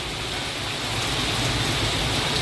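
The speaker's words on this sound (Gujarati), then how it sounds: "જોરદાર વરસાદ આવી રહ્યો છે" Steady heavy rain pours down in a dense, continuous hiss with no pauses and no voices.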